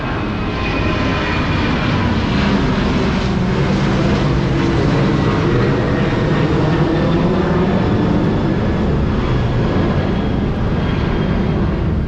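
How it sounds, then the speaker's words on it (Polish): A fixed-wing airplane passes low over a hotel beside an airport, its engine roar loud and steady throughout with a broad rumble that holds without pause and no talking. "A chwilkę, samolot leci."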